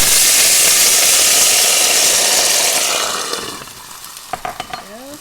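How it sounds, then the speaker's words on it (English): Water poured into a hot greased pan of potstickers sizzles loudly and steadily, then fades over a couple of seconds as the steam settles, followed by a few light clinks. "It's going to sizzle, so watch out."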